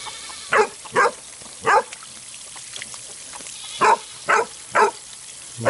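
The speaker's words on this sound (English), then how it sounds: "My girl's got to bark at Clint and make him mess with my fence" A dog barks outdoors in single sharp barks, three spaced early on and three more near the end, moderately close over a steady background hiss.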